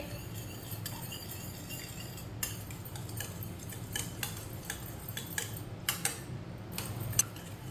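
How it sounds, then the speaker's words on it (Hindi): Eggs whisked in a bowl for an omelette, a faint irregular run of light clinks and ticks of utensil against the bowl, quiet and close with no talk. "अंडों को मिक्स कर लेंगे"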